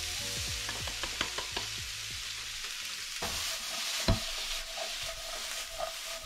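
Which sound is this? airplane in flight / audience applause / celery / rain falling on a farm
celery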